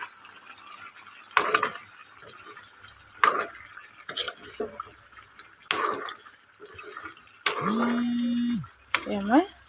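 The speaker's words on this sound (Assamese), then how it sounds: "এতিয়া মই আকৌ লৰাই দিছোঁ।" Mutton curry stirred in a pot, with a few separate scraping, clattering strokes spaced a couple of seconds apart over a low steady background hiss, ending in a short sustained tone and a sweeping squeak.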